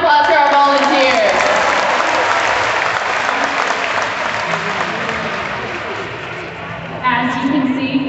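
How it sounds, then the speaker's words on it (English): An audience applauds volunteers at a SeaWorld Orca Encounter killer whale show, a loud, steady wash of clapping and crowd noise lasting throughout, with a presenter's voice heard over it near the start and again as it fades. "Let's give a round of applause for our volunteers."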